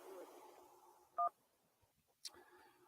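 A single short dial tone beep sounds on a radio show's call-in line, faint against a quiet studio background, followed by a small click.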